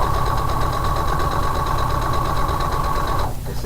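A sewing machine runs a steady straight stitch on a rolled hem, a loud continuous mechanical whirr with fast rhythmic needle pulsing that stops abruptly near the end, no voices.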